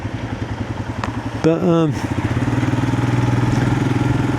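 A Voge 300 Rally motorcycle engine runs steadily while ridden, its low pulsing drone loud and close, rising briefly in pitch as the revs climb, with a single spoken word near the start.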